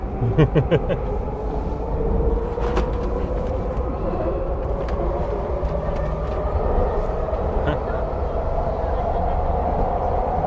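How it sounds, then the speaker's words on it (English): Vancouver SkyTrain ride heard from inside the car, a steady rumbling roar of wheels and motors with a faint whine throughout, and brief higher chirps near the start. "So we're on the SkyTrain."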